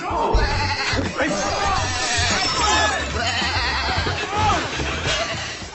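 Goats bleating in a farm setting, several overlapping wavering calls repeating across the clip against a busy background with a murmur of voices.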